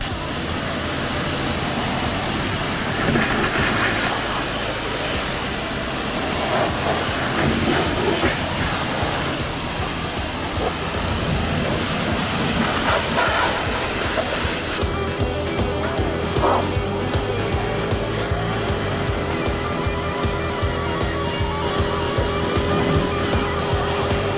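A Start Pro SPW-225B pressure washer spraying through a yellow 15-degree nozzle while washing a car, a loud, steady, broadband hiss of water jet and pump running nonstop for the whole stretch, with its texture shifting partway through.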